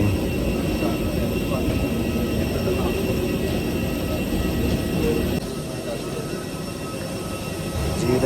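Passenger airplane in flight heard from inside the cabin, a loud, steady broadband engine roar that drops slightly in level partway through and then holds, with no clear talk over it.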